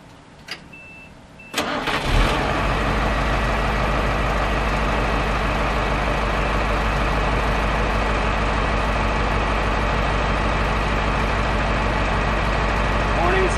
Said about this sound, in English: I'm going to start the engine, and the warning signal should go off at 60 psi